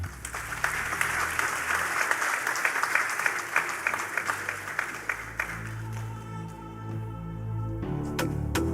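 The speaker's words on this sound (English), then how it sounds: "Let's give a round of applause, please, ladies and gentlemen." An audience at the 7th Africa Emerging Markets Forum claps in a dense, sustained burst for several seconds, then the applause thins out as a soft musical tone takes over near the end.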